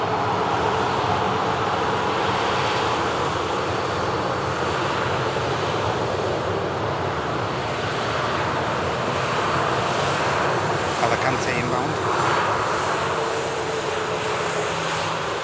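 An airliner fitted with winglets at Manchester Airport, a continuous broad engine roar held at a steady loud level throughout, with no voices.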